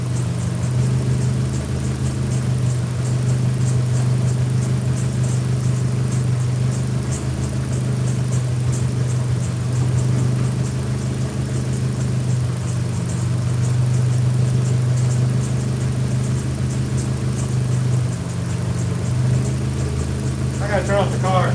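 A car engine idles steadily in a smoky garage, a constant low hum and whir running throughout, with a person talking over it near the end.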